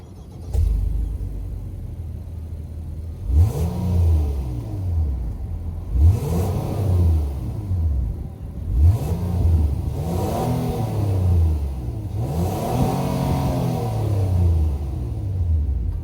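The 3.5-liter VTEC V6 of a 2024 Honda Passport Trailsport idles and is revved about five times in quick bursts, each rev rising and falling back to a steady rumble.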